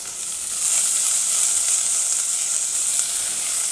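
Chopped onion frying in hot oil with curry leaves for a ridge gourd masiyal, a steady, close hiss of sizzling throughout with no voices.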